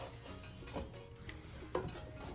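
Cheese gets folded into baked mac and cheese with a spoon, making faint scraping and clinking against the dish, a few soft knocks and one sharper clink, close up with no talk.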